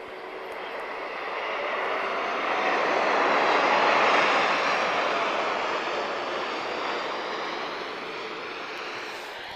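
An Airbus A321neo-271 with Pratt & Whitney engines on the runway at Lisbon Airport, a broad, steady jet roar that swells to a peak mid-clip and then eases off slightly while staying loud, heard from a distance with no talking.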